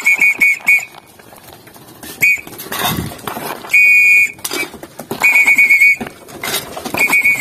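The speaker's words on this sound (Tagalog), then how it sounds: "nagpito-pito ako baka sumunod." A person whistles to call a pigeon back to its loft, giving loud, shrill, repeated short blasts in quick bursts with pauses between them, close and unaccompanied, with a few clatters in the gaps.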